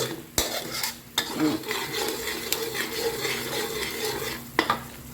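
Pork stir-fried with chilies in a pot for a coconut curry with pork bones and bamboo shoots, a close stirring scrape over a steady sizzle, punctuated by several sharp clinks of the utensil against the pot.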